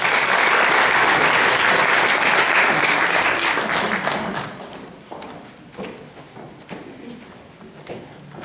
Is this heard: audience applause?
yes